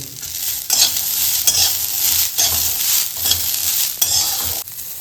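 Fresh green peas fry in a pan for a pea chutney, making a loud, continuous sizzle broken by regular scraping stirs about every second, with no voices.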